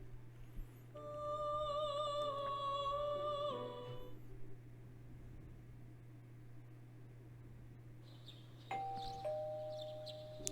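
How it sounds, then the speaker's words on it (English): Doorbell chime from the video game Persona 4 Golden: a clear multi-tone ding-dong ringing for about three seconds over a steady electronic hum, followed later by a softer high chime. "You heard the doorbell ringing."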